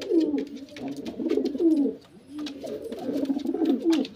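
Pigeons coo from a full loft cage, low throaty rolling calls overlapping almost continuously, close and moderately loud, with a brief lull near the middle before the chorus resumes.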